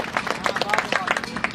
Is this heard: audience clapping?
yes